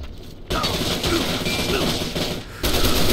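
Dense rapid gunfire in the Crimecraft video game, loud continuous bursts of shots that cut in sharply, briefly ease, then surge again, with a faint voice underneath.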